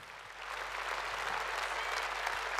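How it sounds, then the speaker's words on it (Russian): Warm, dense applause fills a large concert hall at an anniversary concert in the State Kremlin Palace, swelling slightly and holding steady over a low hum. "Ваши аплодисменты, друзья."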